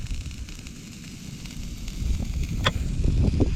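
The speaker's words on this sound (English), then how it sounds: "Sausages weren't cooking because of the wind, but listen to them sizzle." Sausages sizzle over an outdoor campfire on a windy day, a steady crackling hiss that grows louder, with sharp pops from the flames near the end.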